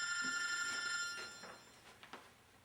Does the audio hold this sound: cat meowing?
no